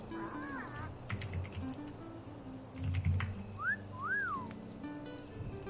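A character whistles at a pirate parrot pet in World of Warcraft: a short warbling whistle, then two rising-and-falling whistled notes, over steady keyboard clicking and faint background noise.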